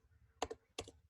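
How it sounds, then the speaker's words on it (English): Two separate keystroke bursts on a computer keyboard, close and fairly quiet, during a bond graph modelling tutorial, with a low hum underneath. "I'm still typing."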